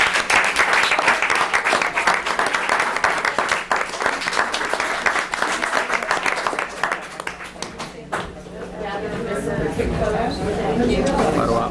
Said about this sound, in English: And a huge round of applause.